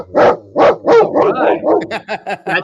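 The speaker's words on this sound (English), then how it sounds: "You stop barking." A dog barks loudly three times up close, then carries on with a quicker run of shorter, higher barks and yips.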